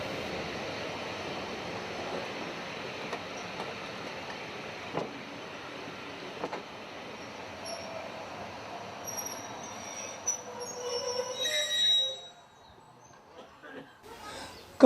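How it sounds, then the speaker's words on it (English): A steam train hauled by BR Standard 4MT number 76079 on the North Yorkshire railway rumbles steadily in the distance and draws closer to Goathland Station, wheels squealing faintly before it quiets. "Approaching the station is a train from Gromont, with BR Standard 4MT number 76079 in charge."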